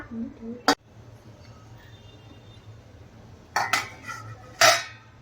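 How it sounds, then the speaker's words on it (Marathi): A metal lid set onto a cooking pot of Malvani chicken, giving a sharp clank near the start and two more rattling metallic clatters near the end, with quiet kitchen background between. "आता ह्याच्यावर आपण झाकण ठेवूया"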